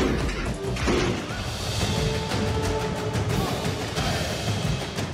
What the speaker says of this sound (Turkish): Açılmayan kapılar koçbaşlarıyla kırıldı.